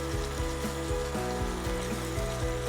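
Korean rice cakes and fish cakes stir frying in a pan for cheesy tteokbokki, a steady close sizzle with soft periodic stirring strokes and no talking.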